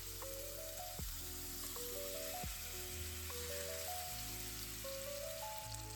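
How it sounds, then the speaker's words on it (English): Chicken pieces frying in hot vegetable oil give a steady, continuous crackling sizzle that runs without pause, with sustained tonal sounds layered on top. "If it sizzles, you're good to add the rest of the chicken."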